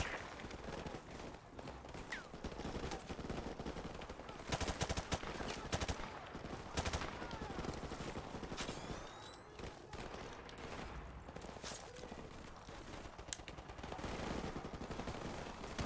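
Machine gun fire in Call of Duty Modern Warfare Remastered rattles in repeated sustained bursts with distant shots and battlefield clatter, fairly loud throughout.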